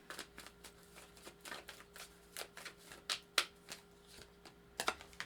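Oracle cards being shuffled by hand up close: quick, papery riffles and flicks come in uneven bursts, with a few sharper card snaps standing out.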